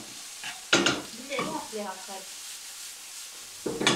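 Vegetables with salt and pepper sauté in a pan over medium heat, giving soft, quiet sizzling and a few stirring scrapes that come in short bursts, with brief pauses between them.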